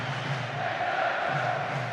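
Football crowd at the England v Switzerland Euro 2024 quarter final, heard as a broad, steady roar of massed voices that swells slightly, distant and continuous.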